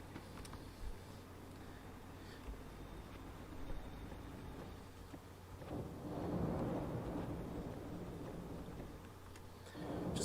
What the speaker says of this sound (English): It sounded like a huge lightning struck.